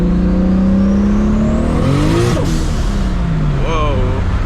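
A 1000HP Toyota Supra on street tires accelerating hard in third gear with wheelspin, the engine loud and close as the revs rise, flare briefly and rise again, with a voice talking over it.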